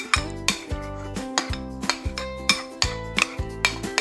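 Dip being scraped and spooned from one container into a serving dish, with repeated clinks and knocks of a utensil against the dishes in an uneven rhythm, close and clear with no talk.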